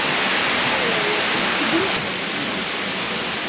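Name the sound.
river flowing in Himeji garden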